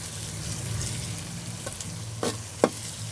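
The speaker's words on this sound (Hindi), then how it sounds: "इत्थे हुण थोड़ी जी इन्हां दी भुनाई करसां ताकि अंडे कच्चे ना रह वञन" Eggs and onion being stir-fried in oil in a pan, a steady low sizzle with a couple of short scraping stirs near the end, no voices.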